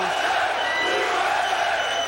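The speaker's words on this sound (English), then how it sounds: "the crowd here in Mississippi chanting USA" A large arena crowd in Mississippi roars steadily at a UFC 15 fight, a dense, continuous wall of cheering and chanting of USA that holds at full volume throughout with no gaps.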